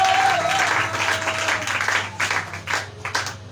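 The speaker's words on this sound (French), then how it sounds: "Si tu peux acclamer pour la parole du Seigneur encore une fois" A church congregation bursts into applause for the word of the Lord, a dense wash of clapping that stays steady and loud, then thins into scattered claps toward the end.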